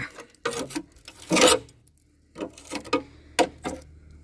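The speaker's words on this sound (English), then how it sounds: "I'm just taking my chisel and hammering it off, picking it apart." A chisel is hammered against rusted sill metal on a Jeep TJ, producing irregular scraping and knocking strikes in short clusters with brief pauses between, close and moderately loud.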